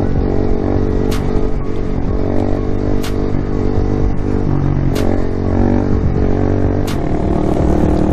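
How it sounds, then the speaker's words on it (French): A 2016 Honda MSX 125 motorcycle engine idles nearby, a steady loud putter with sharp clicks recurring about every two seconds and no talk. "c'est une Honda 125 MSX, donc là c'est un modèle de 2016"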